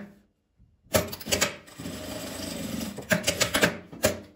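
A sewing machine stitching a seam in fabric, running in short bursts with brief pauses between, close and fairly quiet.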